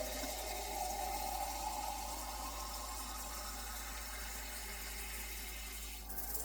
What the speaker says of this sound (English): So I just added 6 cups of water to my pot.